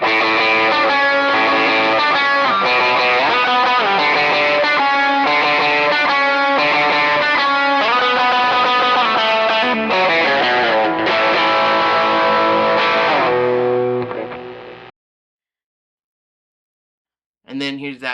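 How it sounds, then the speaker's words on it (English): Electric guitar lead tone through a Morning Glory overdrive pedal, sustained melodic notes with bends and slides playing loudly for about fifteen seconds, then a short silence before a brief strum returns. "here's kind of like that lead sound again with the Morning Glory"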